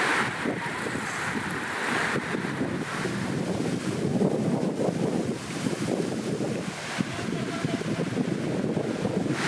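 Strong storm wind buffets and roars steadily, with gusty rushing noise and a low rumble throughout.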